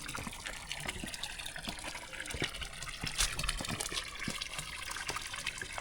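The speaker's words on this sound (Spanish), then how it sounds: "Hay una fuente." Water trickles and splashes steadily from a moss-covered mountain fountain in an abandoned spot in Galicia, a close, continuous liquid patter with small gurgles, fairly faint and without talk.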